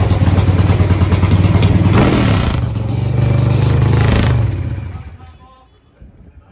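Pro Stock drag racing motorcycle at the NHRA four-wide event in Las Vegas, a loud close engine roar rising and holding for about four seconds, then cutting off into quieter trackside noise.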